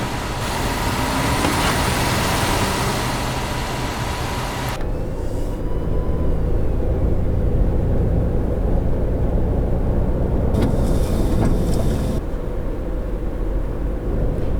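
A large long-distance coach driven at night rumbles with a steady low engine and road drone, joined by bursts of passing traffic and wind noise, close and continuous.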